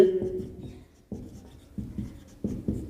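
Chalk or marker scratching across a board during a chemistry lesson, a series of short, close strokes separated by brief pauses, with quiet speech in between.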